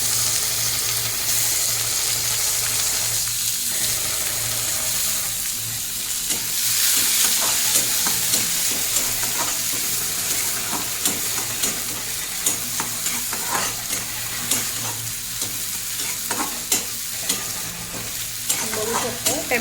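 Tomatoes sautéing in a pan for street-style masala Maggi give a steady, close sizzle and hiss, with scraping stirs and clinks from the spoon against the pan throughout.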